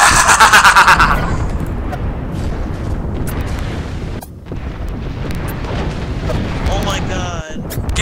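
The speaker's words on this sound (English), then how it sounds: "Getting bombed at." Bombing explosions in the Apex Legends battle royale shooter: a loud booming blast at the start rolls into a long, dense rumble of detonations and debris, with a shouting voice over the chaos.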